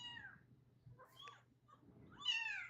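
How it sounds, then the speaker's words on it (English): A kitten meows several times, thin high rising cries up close, with quieter chatter between them and a low steady hum underneath. "Alita, stop being mad at that kitten."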